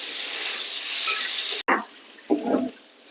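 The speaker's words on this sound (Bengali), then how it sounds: "এই যে আলু তেলের মধ্যে ভেজে নিলাম" Boiled potatoes sizzle loudly in hot oil for bharta, a steady bright hiss that cuts off abruptly, then returns as quieter crackling bursts of frying.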